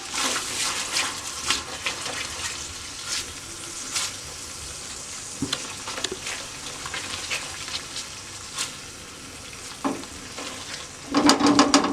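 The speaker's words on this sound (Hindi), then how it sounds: "अच्छे से मिक्स कर लेंगे।" Ground spices being stirred and fried in a pan for malai kofta gravy, with steady low sizzling and intermittent spoon scrapes, close by and without talk.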